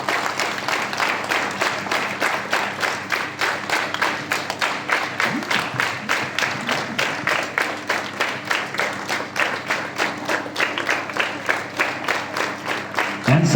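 Students at a school assembly clap together in a steady, even rhythm, many hands striking in unison for over a dozen seconds, with a faint murmur of voices underneath.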